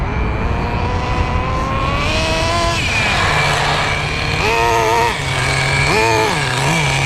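The small nitro engine of a Schumacher Menace 21 RC car runs on a road, whining and revving up and down as the two-speed transmission shifts, loud and continuous.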